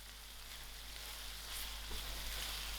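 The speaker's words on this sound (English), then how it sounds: "I'll allow this to fry for about 5 more minutes." Tomato puree frying in a pan for a butter chicken pie filling gives a soft, steady sizzle. The hiss rises slightly partway through and holds at moderate loudness with no voices.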